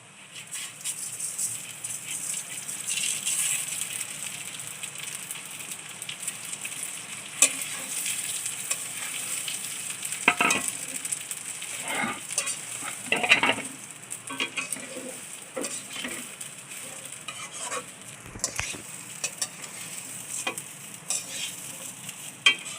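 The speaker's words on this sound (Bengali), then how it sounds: "আর পুরো একসাথেই সব ভেজে নিলাম পরে আগে পরে এইগুলো ভাজলাম না একসাথেই ভেজে নিলাম" Spices fry in hot oil for basanti pulao, a steady sizzle broken by irregular scraping and clinking as a utensil stirs the pan, close and moderately quiet without speech.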